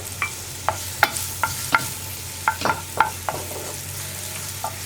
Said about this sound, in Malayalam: ഇതേ നെയ്യിൽ തന്നെയാണ് ഞാൻ പഴവും ഒന്ന് വഴറ്റിയെടുക്കുന്നത്